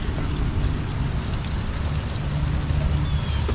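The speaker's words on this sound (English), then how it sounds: "It's raining outside." Steady rain falls outside around a house in a quiet neighborhood, an even, close wash of patter that continues unbroken throughout.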